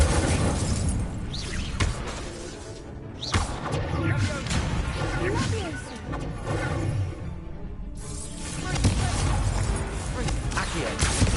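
Incendio fire spell cast in Hogwarts Legacy, a loud burst of crashing, whooshing effects with sharp impacts and a roaring flare amid dense game sound.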